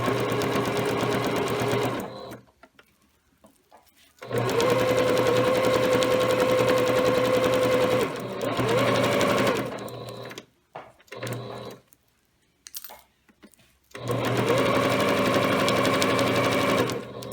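Sewing machine stitching fabric in bursts, loud and close, each run of steady rapid whirring broken by pauses where the needle stops and the work is pivoted, with faint handling noises between runs.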